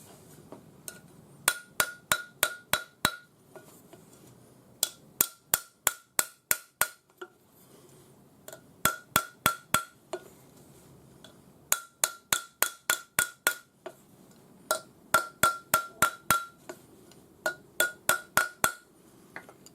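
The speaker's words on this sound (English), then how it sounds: "you can hear it when the bangle hits the bottom of the mandrel" A hammer strikes a hollow metal bangle on a mandrel in quick bursts of about six to eight bright, ringing taps, with short pauses between bursts, close and alone.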